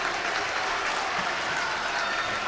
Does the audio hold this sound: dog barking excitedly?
no